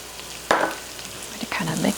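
Flour and sugar being stirred into frying bacon and onions in a pan: a soft continuous sizzle with two brief scraping stir strokes, close and moderately quiet.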